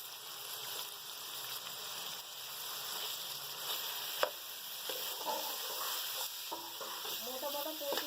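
Whole spices (cumin, bay leaf, cinnamon stick, crushed cloves, cardamom and black pepper) fry in hot oil for qeema matar, a soft steady sizzle with occasional stirring clicks and scrapes.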